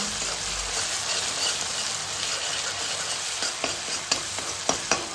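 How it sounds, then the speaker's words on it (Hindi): Onion and tomato tempering sizzles in a pan, a constant bright frying hiss with a string of sharp spatters and stirring clicks growing toward the end, and no one talking. "प्याज टमाटर का तड़का लगा रही हूँ।"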